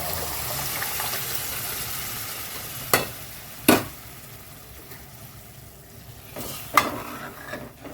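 Mashed dal hits a hot ghee tempering with a soft, continuous sizzle, punctuated by three or four distinct clanks of a spoon stirring in the pan.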